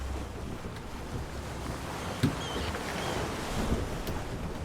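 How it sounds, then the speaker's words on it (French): Boat travelling off the west coast of Greenland toward Disko Island, with a steady engine drone and heavy wind buffeting the microphone, water rushing along the hull and occasional knocks and splashes. "Pour espérer le rencontrer, il faut emprunter le bateau"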